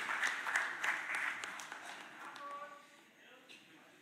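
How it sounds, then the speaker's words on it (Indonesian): Crowd applause at an Indonesian political announcement rises briefly near the start, moderate and fairly distant, then fades out into quieter background. "Kita berikan tepuk tangan yang meriah buat Pak Ganjar Pranowo dan Prof. Mahfud MD."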